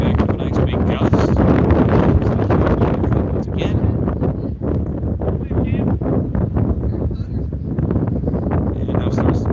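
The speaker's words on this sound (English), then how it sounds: "And back up a nice big gust." Strong wind gust buffeting the microphone at a varsity baseball field, a loud continuous rumble across the whole stretch, with a person talking briefly.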